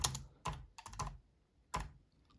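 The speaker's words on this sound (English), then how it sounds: "The noise comes from when you're tapping on the board itself." Fingers tap on a Bluetooth keyboard, the clatter coming mostly from the board itself. Five or six sharp, close clicks fall in an uneven rhythm with short pauses between them.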